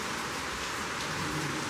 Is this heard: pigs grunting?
no